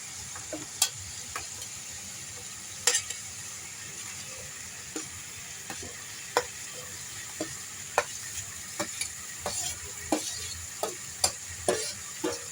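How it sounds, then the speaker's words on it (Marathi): Bottle gourd pieces tumbled into hot masala in a pan and stirred, with a steady sizzle under repeated sharp scrapes and clinks of the spoon at an uneven rhythm, close and alone without talk. "आता आपण त्यामध्ये दुधी टाकणार आहोत।"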